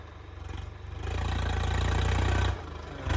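A tractor engine runs in a field during ploughing, a low steady rumble that swells louder after the first second, holds, then drops back near the end; no voices.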